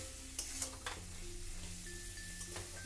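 Taro and tomato sautéing in a pan for a vegetarian gathi kochur dum, a low steady sizzle with a few soft stirring knocks and scrapes, close by and fairly quiet.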